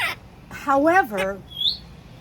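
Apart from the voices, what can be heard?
pet parrot calling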